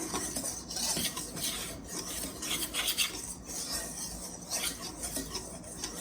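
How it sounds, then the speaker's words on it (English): A wire whisk scrapes and rasps steadily through flour and other dry buttermilk biscuit ingredients in a bowl, a close, continuous rhythmic scratching with no talking. "we're going to use a whisk to combine these, combine the dry ingredients"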